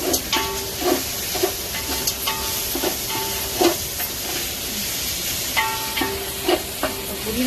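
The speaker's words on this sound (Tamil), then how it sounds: "இங்கேருந்து எடுக்கும்போது இப்போ இங்கே வதங்கிக்கிட்டே இருக்கு" Mint sautéing in a pan for peas pulao gives a steady loud sizzle and hiss, broken by repeated scraping stirs and soft clinks at a fairly even rhythm.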